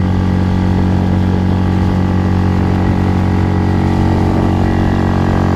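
A motorcycle engine with a new carburetor running close by beside the Vistula river, a loud, steady low drone that holds an even pitch without clear revving throughout.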